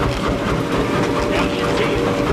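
An old locomotive engine at a steam and threshers show runs with a loud, dense, continuous rumble and clatter close by, with a voice faintly mixed in.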